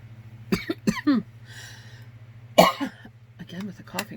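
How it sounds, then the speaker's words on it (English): Several short, harsh coughs and throat-clearing bursts from a woman doing her makeup at home, close to the mic, in two clusters separated by a quiet pause over a steady low hum. "Again with the coughing, I'm so sorry"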